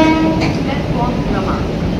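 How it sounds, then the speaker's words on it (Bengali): Passenger train pulls into an Indian station in the early morning, a rumbling rolling roar close by with a brief horn-like tone at the start, platform noise in the background. "সকাল 6:30 আমাদের ট্রেন ঢুকছে এখন।"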